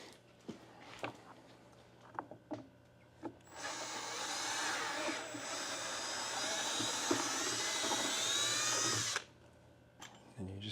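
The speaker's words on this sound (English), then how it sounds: "3/8 drill bit, and you can always wiggle it back and forth to waller it out a little bit" A power drill with a 3/8 bit bores a hole during a 2024 GMC Sierra 2500 HD install, a loud sustained whine running about six seconds after a few scattered knocks and clicks.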